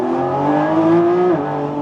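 Car engine surging and revving loudly as the car switches from electric drive into sport mode while moving, a rising steady tone that holds and then drops near the end.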